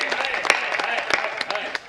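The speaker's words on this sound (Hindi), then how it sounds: "तालियां" Scattered claps from an audience at a Hindi comic poetry recital, brief and uneven, mixed with voices talking over them.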